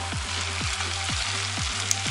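Zucchini frying in a pan with onion and tomato, a steady close sizzle with regular soft stirring strokes about every half second, no voices.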